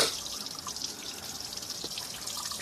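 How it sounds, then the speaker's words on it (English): Water trickling and gurgling steadily while an engine heater core is flushed with a hose, a continuous splashing flow with bright hiss and faint drips, close by and alone without talk. "You can see the water gargling"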